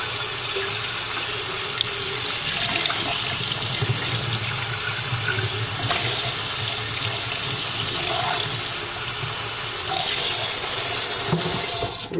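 Tap water runs steadily and fairly loudly into a glass jar as it is rinsed out, a continuous splashing gush with no talking.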